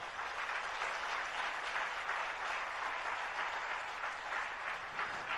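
An audience at a Jain monk's religious discourse in Damoh claps steadily, a dense, even wash of applause that holds at full strength for about five seconds with no talking.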